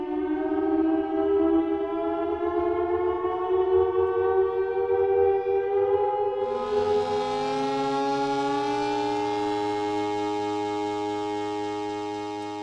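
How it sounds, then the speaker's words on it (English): Wailing military sirens and alarms, loud sustained harmonic tones that slide in pitch, with a second siren joining midway and overlapping to the end. "There's sirens and alarms, so I wanted to try some new concepts."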